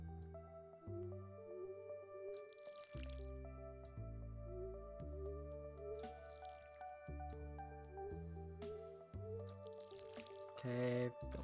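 A watering can is refilled in the Stardew Valley video game, giving a few short splashy, bubbling bursts spaced several seconds apart over steady stepping background game music.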